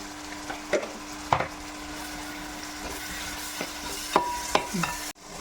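Sliced onions sauté with salt in a pan, giving a soft, steady sizzle broken by several distinct scrapes and knocks of a spoon stirring against the pan.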